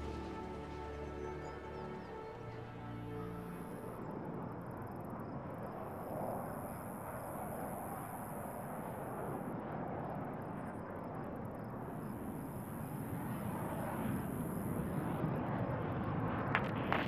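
An aircraft flies in low from the south on a search. Its steady droning engine noise fills the clip and grows slightly louder toward the end, with no talk.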